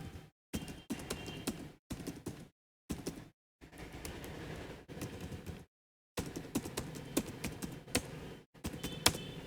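Numbers being typed on a computer keyboard into a spreadsheet: close, crisp key clicks in quick bursts separated by short pauses, with no talking.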